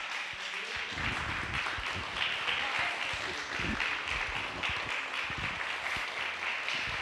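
A church congregation standing and applauding during an evening Bible study service, dense steady clapping filling the room throughout.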